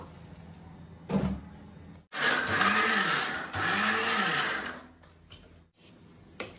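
A mixer grinder whirs loudly in two long bursts with a brief pause between, its motor pitch rising and falling, preceded by a short knock, grinding tomato chutney.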